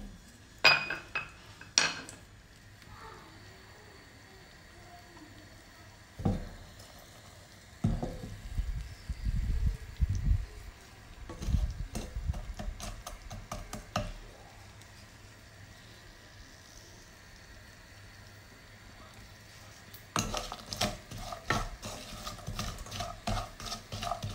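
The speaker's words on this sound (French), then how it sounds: "Donc je vais caraméliser le sucre." Sugar caramelizes for praline as a utensil stirs and scrapes the pan, producing intermittent clinks and scraping bursts separated by quieter stretches.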